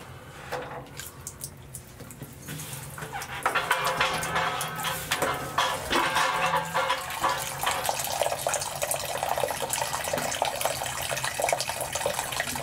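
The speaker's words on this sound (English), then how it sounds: "So I'm going to continue draining down the water heater by moving it closer with a shorter valve and a shorter hose." Water drains steadily through a short hose from a water heater into a floor drain, a continuous loud gushing and splashing that grows stronger after a few seconds and keeps flowing.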